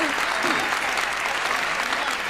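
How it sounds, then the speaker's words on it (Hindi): A crowd applauds at a poetry recitation, dense steady clapping for a couple of seconds, close and loud, with a voice faintly underneath. "तालियां बजाइए।"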